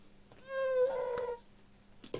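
A domestic cat on a Limousin farm lets out a single drawn-out meow, close by and moderately loud, with a short rustle after it in an otherwise quiet space.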